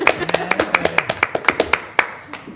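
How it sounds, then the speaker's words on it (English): A small audience at a borough council meeting claps in a brief, sparse burst of distinct, close hand claps with an uneven rhythm, tapering off into a few scattered claps. "clap for that"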